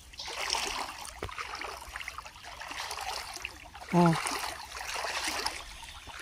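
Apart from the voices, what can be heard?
flowing water in a stream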